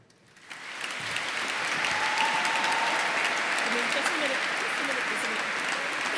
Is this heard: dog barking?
no